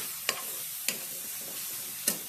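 A spoon stirs brinjal masala with curry leaves, chilli powder and garam masala in a pan, three distinct scraping knocks against a soft continuous sizzle, close by.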